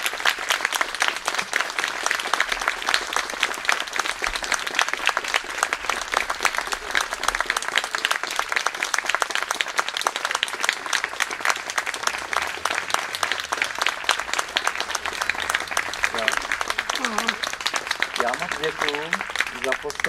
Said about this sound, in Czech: Já nejsem moc zvyklý na potlesk, tak děkuju, že jste skončili rychle.